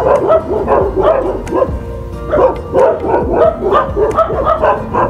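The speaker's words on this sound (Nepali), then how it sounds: "बाटो बाटोमा भुकिरहेको कुकुरहरू" Stray dogs along the road bark in repeated bursts, several loud, close barks overlapping with yips and a brief whimper between them.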